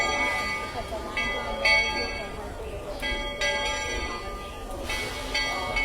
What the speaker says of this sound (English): The Walt Disney World Railroad train is coming through.